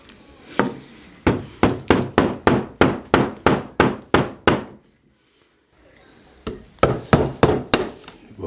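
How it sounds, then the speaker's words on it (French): A wood chisel is struck with a hammer to cut out part of a solid door, in two runs of loud, evenly spaced, close knocks, about a dozen then half a dozen, with a short quiet gap between. "je vais le finir au ciseau à bois"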